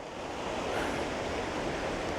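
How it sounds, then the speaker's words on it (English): Steall Waterfall in Glen Nevis, running low with little water, gives a steady broadband rush of falling water, fairly close and continuous throughout, with no voices. "your first view of Steall Waterfall"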